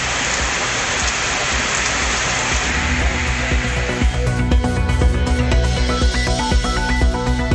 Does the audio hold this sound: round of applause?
no